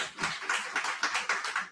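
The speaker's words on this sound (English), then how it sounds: "This is where you clap." Audience applause at a company's annual general meeting, a steady patter of many hands clapping in short swelling bursts across the room, moderately loud with no talk over it.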